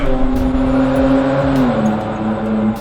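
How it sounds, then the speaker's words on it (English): A throaty petrol V6 Jaguar F-Pace SUV engine revs up close, its tone rising and falling over a few seconds, loud and gravelly. "They seem to have made it quite a bit shoutier. It's got more of a kind of throaty noise to it."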